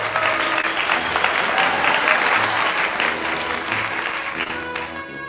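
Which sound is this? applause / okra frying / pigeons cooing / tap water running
applause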